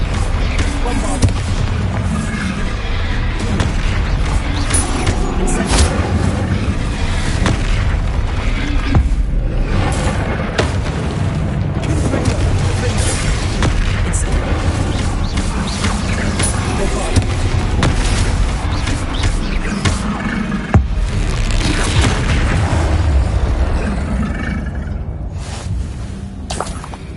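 Bombarda blasting spells exploding in Hogwarts Legacy, a continuous barrage of deep booming blasts and bursts, loud and close, with voices heard at times over the din.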